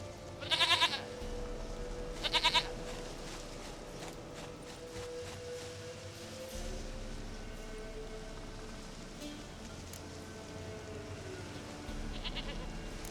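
Two short, bright goat bleats from The Witcher 3 ring out near the start over a steady rain-like hiss, with a fainter third call near the end and no voices.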